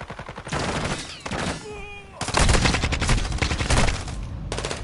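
Bursts of rapid automatic gunfire in a first-person shooter game, loud and dense, broken by short pauses, with a few faint tonal game sounds between volleys.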